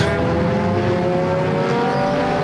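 Race cars circling Flamboro Speedway during the 250-lap Halloween Enduro, a steady dense engine drone with layered harmonic tones from several cars, loud and continuous with no pauses.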